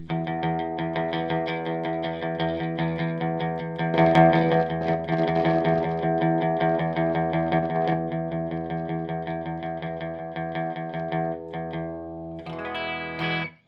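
Electric guitar played through the high-gain channel of a 1993 Peavey 5150 amp, sustained overdriven chords ringing out with a quicker strummed passage near the end, no talking.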